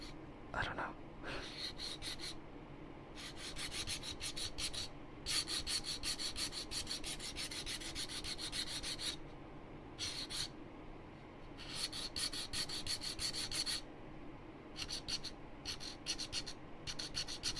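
Rasping strokes of a file or sandpaper on a wooden object, coming in bursts of steady rubbing with short pauses between them, close and fairly quiet, with a soft voice speaking at times underneath.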